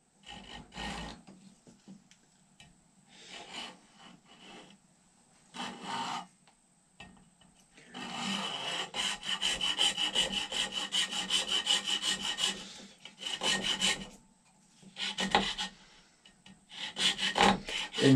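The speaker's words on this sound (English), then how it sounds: "what I want to do is take a hacksaw." Rhythmic back-and-forth hacksaw strokes cutting around a powder horn, short rasping bursts at first, then a longer run of steady close sawing, with pauses between sets.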